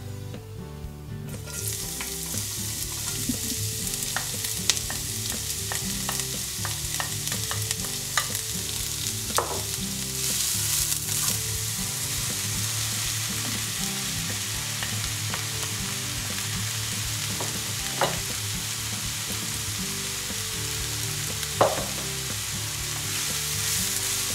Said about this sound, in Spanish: Hemos picado la berenjena sin la piel y la cebolla morada y ahora vamos a sofreír las dos cosas en la sartén.